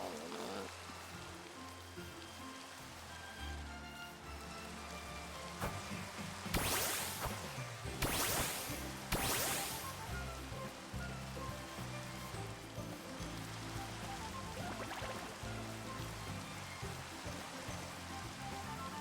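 Steady rain hisses in Minecraft, a continuous wash of falling drops with a few louder splashing swells, heard under game music and faint talk.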